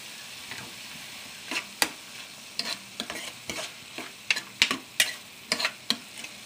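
Cabbage and chana dal curry stirred in a pan, a quiet sizzle under repeated scraping and clacking strokes that come in irregular clusters, fairly close.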